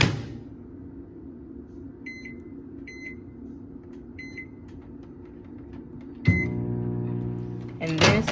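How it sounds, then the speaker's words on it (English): A microwave oven hums steadily and low while a few short electronic beeps chirp over it; toward the end a louder thump and fuller whirring take over, with no talking. "I'm gonna put this in the microwave on like 2 minutes"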